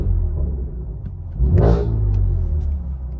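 A BMW M4 Competition engine, heard from inside the cabin, idles with a low rumble before a single sharp rev rises and falls back to idle.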